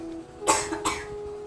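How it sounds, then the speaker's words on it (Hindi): Two harsh coughs close together, loud and near, with a low steady hum underneath. "लगता है खांसी आज कुछ ज्यादा ही बढ़ गई है।"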